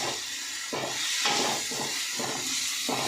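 Ginger garlic paste and chopped vegetables sizzle while frying in a pan, a close, steady hiss with brief bursts of louder crackle.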